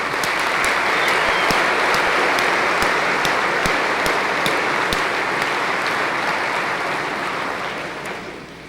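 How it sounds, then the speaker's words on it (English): An audience at an IBM corporate meeting in Dubai applauds the team, loud sustained clapping from a large crowd with a few sharp individual claps, tapering off at the end. "let's do a round of applause for the whole team in here."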